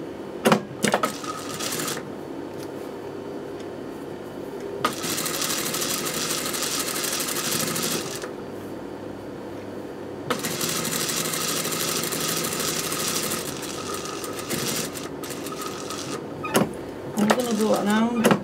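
A sewing machine top stitching around a garment neckline, with two long stretches of steady rapid whirring broken by pauses, while a person talks between and over the runs.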